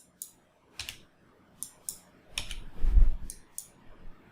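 Scattered keystrokes on a computer keyboard entering numbers into an online matrix calculator, a few quiet separate clicks followed by a quicker, slightly louder burst of typing, close and alone.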